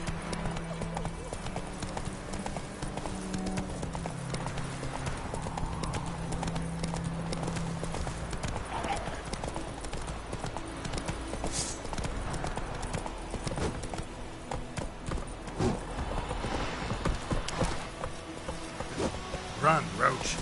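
Hooves of the horse Roach in The Witcher 3 video game clip-clop steadily throughout, set under a continuous game soundtrack with spoken dialogue, and a brief whinny may show up.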